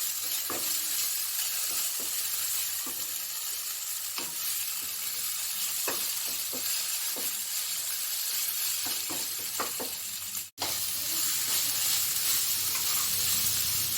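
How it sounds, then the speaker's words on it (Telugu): A ginger, garlic, green chili and curry leaf paste fries for chicken fry, making a steady, loud, close sizzle with occasional stirring scrapes and one brief break in the sound. "అల్లం, వెల్లుల్లి, పచ్చిమిర్చి, కరివేపాకు పేస్ట్ కూడా వేసి లైట్ బ్రౌన్ కలర్ వచ్చే వరకు కూడా వేయించుకోవాలి"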